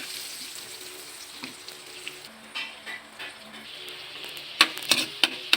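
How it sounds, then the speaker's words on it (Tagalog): Shrimp frying in butter in a pan, giving a steady close sizzle and crackle with a few sharper pops and spatula scrapes toward the end. "Lutuin naman natin yung ating hipon. Tingnan natin yung butter."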